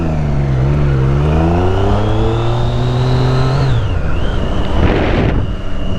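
A Triumph motorcycle engine revs loudly up close while riding, rising and falling in pitch with a burst of wind or road noise near the end.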